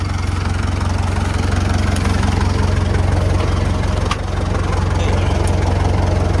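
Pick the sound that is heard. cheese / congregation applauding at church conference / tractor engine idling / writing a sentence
tractor engine idling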